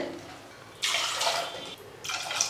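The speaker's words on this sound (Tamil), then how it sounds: "இப்போ இதில் தண்ணி சேர்த்துக்கலாம் வேக வைக்கிறதுக்கு" Water is poured into a pot to boil eggs. Two separate splashing pours come through, the first lasting about a second and the second shorter, both close after a quiet start.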